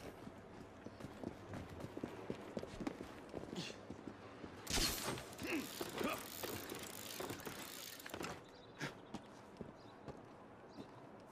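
Horse hooves clip-clop in a steady rhythm on a street in the video game Assassin's Creed Syndicate, soft and moderately close, with a rattling burst of carriage or wheel noise midway.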